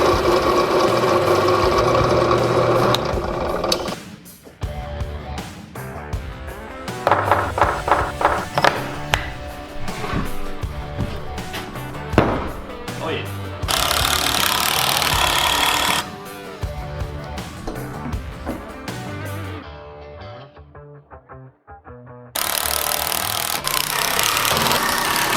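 A power drill bores into PVC pipe held in a clamp jig for building a giant ballista, with bursts of whirring motor and grinding broken by pauses and clatter, loud and close, plus brief handling noise.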